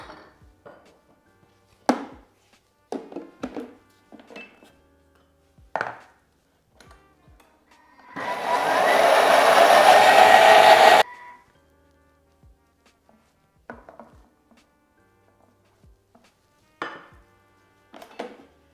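A blender whirs for about three seconds mixing melted refined coconut oil into vegan mozzarella, with scattered kitchen clatter and taps before and after.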